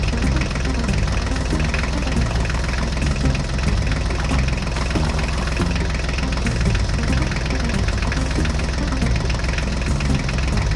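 A heavy tractor engine runs loud and steady throughout, a thick low rumble with a knocking, vibrating texture, close by and unbroken.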